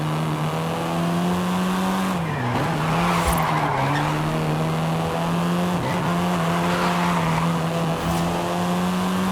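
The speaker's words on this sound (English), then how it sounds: "This version is the Volkswagen Golf R" A Volkswagen Golf R races in Forza Horizon 5, its engine droning loud and steady at high revs, with brief shifts and tire squeals along the way and no talk.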